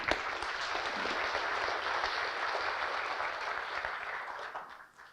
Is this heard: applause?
yes